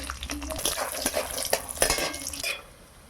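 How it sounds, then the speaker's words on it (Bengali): Lentil dumplings fry in hot oil in a wok, giving a crackling sizzle broken by the scrape and clink of a utensil stirring against the metal pan, close and busy, and easing off at the end. "এবার আমি ডালের বড়িগুলো ভেজে নেব।"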